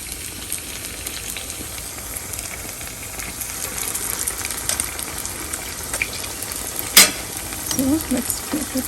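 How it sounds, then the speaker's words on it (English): Vada fritters frying in hot oil in a pan give a steady close sizzle and crackle throughout, with a brief louder splash near the end and no speech. "So now I'm going to put a pan and I'm going to fry this."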